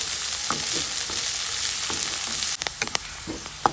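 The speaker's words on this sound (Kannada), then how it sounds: "ಕ್ಯಾಬೇಜ್ ಕೂಡ ಒಳ್ಳೆ ರೀತಿಯಲ್ಲಿ ಫ್ರೈ ಆಗಲಿ." Shredded cabbage for egg rice fries in a pan with a steady bright sizzle, and sharp scraping stirs break in toward the end.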